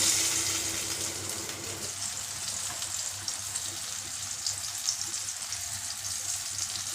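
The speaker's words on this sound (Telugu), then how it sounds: "ఇలా కార్న్ఫ్లవర్ వేసి చేపలు ఫ్రై చేస్తే చాలా బాగుంటుంది" Fish pieces coated in cornflour fry in a pan with a little oil on low heat, giving a steady soft sizzle and crackle close by with no voices.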